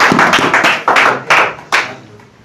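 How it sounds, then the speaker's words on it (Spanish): Church congregation clapping in praise, a few loud, close bursts of handclaps that fade out quickly. "Damos un aplauso al Señor."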